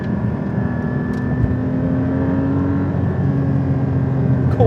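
Porsche 718 Cayman GT4 flat-six engine running with a steady held tone and faint rising revs, heard from inside or nearby at moderate level without talk.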